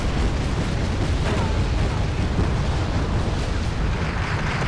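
A sustained rumbling roar of artillery fire and explosions in a strategy war game, loud and dense throughout as transports are struck, with no break in the barrage.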